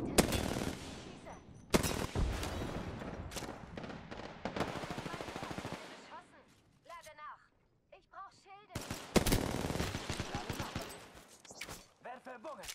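Rapid automatic gunfire in the battle royale game Apex Legends, loud close bursts of machine-gun fire in the first half and again near the end, with a brief lull of scattered lighter sounds in between.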